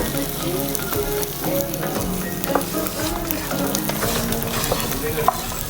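Beef fry with grated coconut and onion is stirred and sautéed in a hot pan, making a close, busy sizzle with repeated scraping and clattering from the spoon moving through the mixture.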